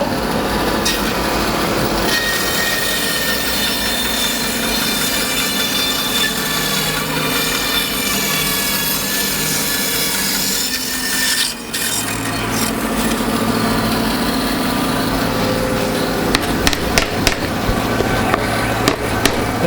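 A chainsaw or power saw cuts bowl blanks from a half log of wood, a loud continuous grinding whine that pauses briefly and then resumes.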